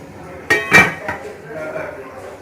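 Halwa kaddoo curry served from a cooking pot into a serving dish, a few sharp metallic clinks of a spoon against the pot close by, then softer scraping, with someone talking quietly underneath.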